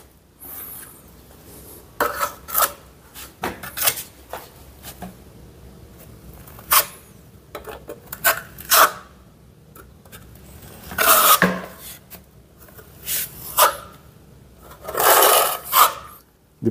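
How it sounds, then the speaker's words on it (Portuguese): Sandpaper rubbed by hand over a plastered wall during finishing work, giving irregular bursts of dry rasping strokes with short pauses between them, close up and moderately loud with no talking. "Depois aqui nós vamos entrar com uma lixa, né? Um lixamento aí, só para dar aquele acabamento especial."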